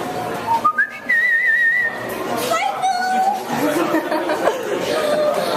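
A person whistles a canary imitation at the Edinburgh Fringe Festival, sustained high warbling trills and slides, loud and close, with other people chattering and laughing around it.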